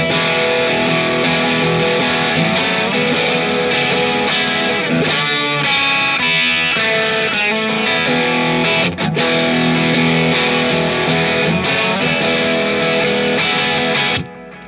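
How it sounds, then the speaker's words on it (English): Heavily distorted electric guitar playing a riff in the style of a rock song, loud and sustained, with a dense chunky tone running without pause until it cuts off near the end. "That big heavy distortion comes in, throws off the slide, and you're into the song"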